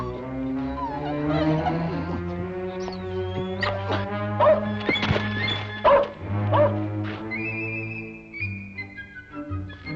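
A dog barks and yips amid a Western drama soundtrack on a frontier ranch, with a steady orchestral bed, several sharp barks clustered mid-scene, and a rising tone near the end.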